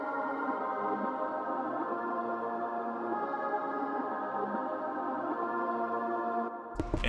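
In FL Studio, an ambient synth melody is reversed and pitched up four semitones, giving steady layered sustained tones that swell softly. It plays alone for about seven seconds and ends in a brief sharp burst.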